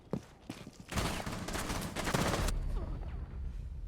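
Rainbow Six Siege gunfire: a few sharp isolated shots, then a dense, loud rapid burst of fire lasting over a second before fading into quieter game ambience.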